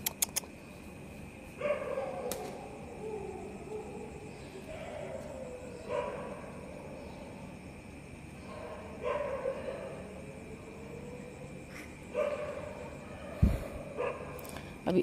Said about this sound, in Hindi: इतनी कुत्ते चिल्ला रहे